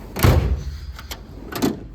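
A metal toolbox drawer in an equipment mechanic's toolbox slides with two or three short scraping rolls, close and fairly loud, with no speech.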